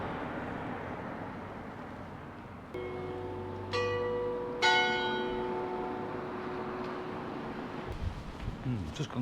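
A church bell chimes the time, Sounding several distinct, ringing strikes that linger and fade over outdoor street ambience heard from nearby.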